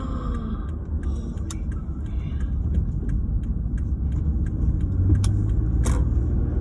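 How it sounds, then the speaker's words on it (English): Steady rumble of slow, backed-up highway traffic full of trucks, a continuous low engine drone with faint ticking and occasional higher passing whooshes, no voices. "The highway is backed up. It's truck after truck after truck."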